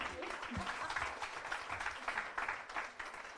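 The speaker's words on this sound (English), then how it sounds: "can we have a little bit of an applause for that" Audience applause at a breast cancer awareness program in Hyderabad, a steady wash of clapping from a crowd that carries on for a few seconds at moderate level.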